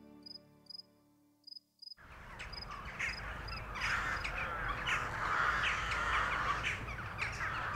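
Rooks caw in a rapid series of harsh calls that open in near silence, followed by a loud, dense chorus of cawing birds layered over constant insect chirring.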